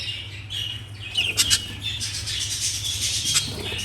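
Young Texas pigeons in a loft give short chirping, squeaky calls over a steady low hum, with a flurry of sharper calls in the middle and no voices.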